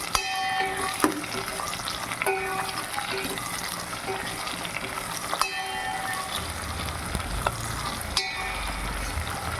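Onion, mustard seeds and curry leaves fry in hot coconut oil with a steady, dense sizzle, broken by a few sharp clinks of a utensil and a low rumble near the end.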